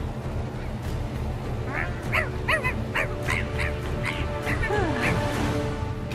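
A cartoon-style dog gives a run of yips and barks over a busy game soundtrack, several quick calls in a row, close and clear above the backing noise.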